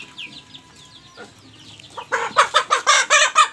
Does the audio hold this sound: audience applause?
no